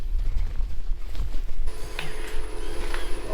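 A vacuum pump in a pump house switches on partway through, adding a steady mechanical drone with rattling, ratcheting tones over the low background rumble that runs throughout.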